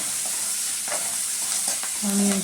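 Onions frying in a pan for a pumpkin (gummadikaya) fry, a dense, steady hiss with occasional stirring scrapes, close and fairly loud, and a brief tonal hum near the end.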